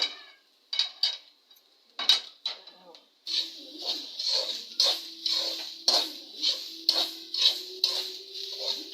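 Onion and grated coconut roast together in a pan while a metal spoon scrapes and clinks against it in a steady, repeated stirring rhythm, close and clear, with a faint low hum underneath.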